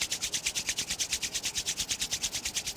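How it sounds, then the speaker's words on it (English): Palms rubbed briskly together during a yoga session, a steady run of about twenty quick, even swishing strokes, close and moderately loud, with no talking. "Rub the palms together."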